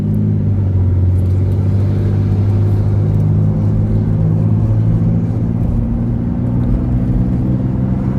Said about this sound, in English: Pass me up with your loud fucking motor.